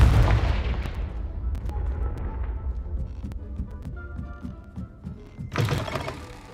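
A Confringo fire spell in Hogwarts Legacy on PC hits with a heavy booming blast that rolls off over a few seconds, followed by a second sharp burst near the end.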